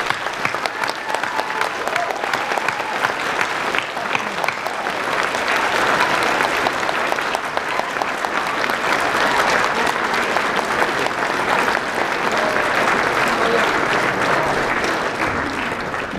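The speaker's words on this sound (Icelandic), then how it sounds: "taka höndum saman og klappa duglega fyrir Team Spark" An indoor audience claps steadily and loudly for Team Spark at the TS16 unveiling, a dense, continuous wash of applause that holds the full length without letting up.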